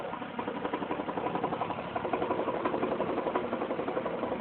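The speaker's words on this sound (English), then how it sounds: "Some sort of knocking noise." A Lexus ES300 idles steadily at an auction, its running engine carrying a continuous rapid knocking attributed to the AC compressor, close and even throughout.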